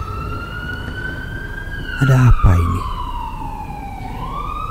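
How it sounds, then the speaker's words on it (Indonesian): An ambulance siren wails in a steady, slowly sliding tone throughout, with a brief spoken question in the middle. "Aku mendengar suara ambulan."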